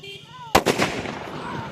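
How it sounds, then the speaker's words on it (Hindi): Firecracker set off at night during Diwali, a single sharp, loud bang after a brief faint hum, followed by a decaying crackle and rumble. "दोस्तों मेरे पीछे आ गया था फटाका। अभी ये फोड़ने वाला है।"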